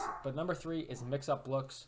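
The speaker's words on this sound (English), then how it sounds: "I'm sorry for my dog in the background." A dog barks and yips in the background of a room, several short barks scattered under a man's ongoing speech.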